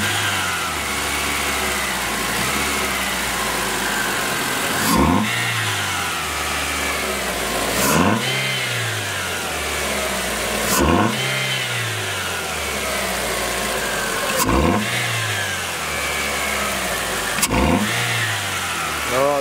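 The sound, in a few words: Chevrolet Prisma engine revving with conical sport air filter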